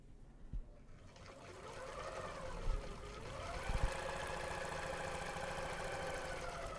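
A serger sewing machine stitches fabric in a steady mechanical whir that rises and holds at moderate volume, with a few soft knocks near the start.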